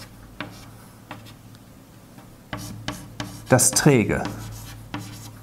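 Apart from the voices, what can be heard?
writing on a board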